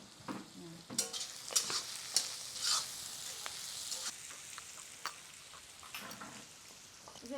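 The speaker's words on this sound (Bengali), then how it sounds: "পেঁয়াজটাকে একটু ভেজে একটু হালকা লাল করে নেব" Onion frying lightly in a pan for a crab, tomato and potato curry, a steady soft sizzle with scattered spatula clicks and scrapes as it is stirred, no voices.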